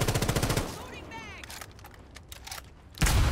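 Rainbow Six Siege gunfire punches through a wall, with loud bursts at the start, scattered shots and impacts in the middle, and another loud burst at the end.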